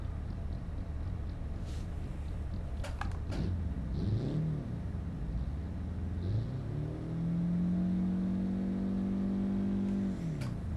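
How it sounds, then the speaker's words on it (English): In the BeamNG.Drive racing game, a drift car's engine revs up and down in repeated rising and falling sweeps, then holds a sustained high-rev drone toward the end, loud and alone with no talk. "don't like the way this engine delivers the power"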